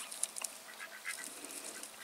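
Ducks quack and honk faintly in short scattered bursts while being herded into their coop, the calls sounding somewhat distant and quiet.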